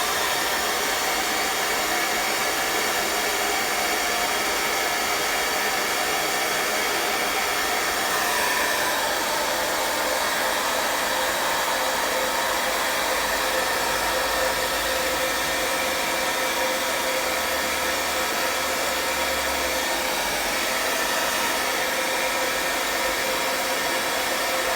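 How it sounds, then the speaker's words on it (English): A hair dryer blows on a drying forest landscape painting, a loud, steady whir running without a break, with slight shifts in tone as it moves. "I'm gonna get my hair dryer to dry things a little faster."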